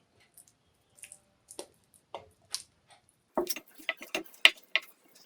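Wet, squishy slaps and soft clicks as hands mix marinated chicken leg pieces, sparse at first then quicker and more frequent, close up without speech.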